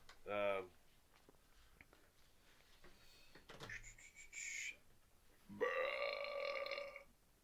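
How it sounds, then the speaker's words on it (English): A loud burp rings out, followed by two longer drawn-out belches over a quiet background, with people talking in between. "Did that burp just happen?"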